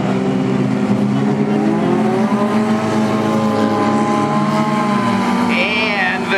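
Hornet-class race cars roaring around the North Central Speedway track, engines droning steadily with shifting revs as they run close together, the loud engine note continuous under crowd and track ambience.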